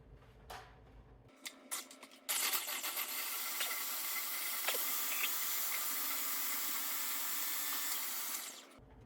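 Blender whirring through homemade sweet mild hot sauce, a few short pulses first, then a steady, continuous motor roar that holds for about six seconds before cutting off.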